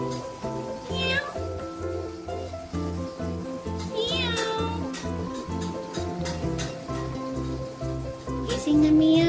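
A pet cat meows several times, each call rising and falling in pitch, over a steady background of music with a regular beat and a person speaking nearby.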